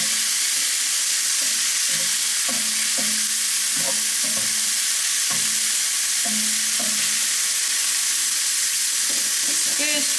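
Prawns frying in a pan for a coconut curry, a steady bright sizzle with repeated knocks and scrapes of a spoon stirring them at close range.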